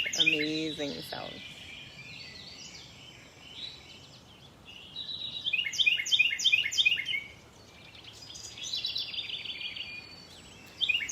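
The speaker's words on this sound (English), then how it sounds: "This invitation of birdsong for us to be our unique, amazing self." Bright, chirping birdsong repeats in phrases of quick trills and whistles, moderately near, over a soft background hiss, with a short voice or call heard at the start.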